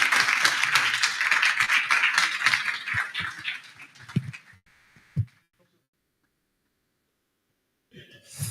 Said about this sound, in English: let's join me in giving a round of applause to Commissioner coming in